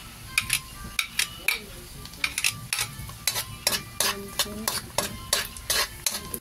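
Garlic stirred in a frying pan while sautéing for carbonara at home: a light sizzle sits under repeated sharp scrapes and clinks of a utensil on the pan, coming in a steady irregular rhythm, close and fairly loud.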